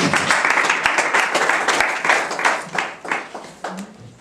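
Audience applause for someone speaker at a Nigerian community career-building workshop in Ternopil, Ukraine, loud dense clapping that thins out and tapers toward the end.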